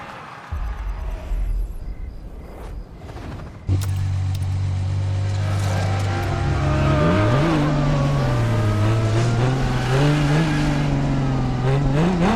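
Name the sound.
Ferrari Enzo engine revving in video game The Crew Motorfest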